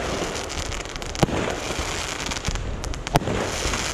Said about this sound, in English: Nothing better than standing in front of your driveway and getting some free fireworks.